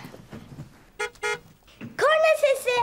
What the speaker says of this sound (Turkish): Korna sesi.